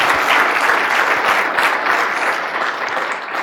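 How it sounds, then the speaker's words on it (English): An audience gives a steady round of applause at the close of a talk on handling anxiety in operations, dense clapping that stays loud throughout and fades slightly toward the end. "a round of applause to you first"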